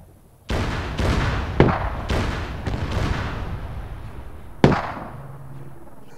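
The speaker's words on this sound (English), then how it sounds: "I'm just using my pistol." Pistol fire in a video game shooter, a few sharp reports standing out against a steady din of other in-game gunfire and explosions. No one speaks over the shots.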